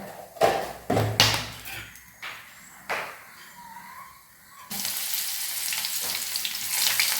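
Coconut oil crackles and sizzles as mustard seeds pop and cinnamon, cloves and cardamom fry, with a few sharp pops and stirring clatters before a loud, steady sizzle takes over.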